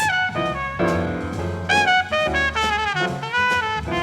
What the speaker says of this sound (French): vous allez pouvoir aussi entendre cette trompette